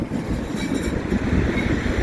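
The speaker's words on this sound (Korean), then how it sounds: "트램이 달리고 있고요" A tram runs over a bridge in Istanbul's old town, heard as a steady rolling rail rumble with wind noise blowing across the microphone throughout.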